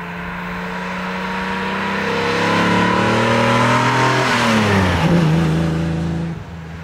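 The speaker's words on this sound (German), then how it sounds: "also laufen tut die Maschine allererste Klasse" A 1959 Mercedes 300 SL Roadster with its engine running smoothly: a steady, loud idle hum that swells as revs climb, then the pitch drops back as the engine settles, heard close with no talking.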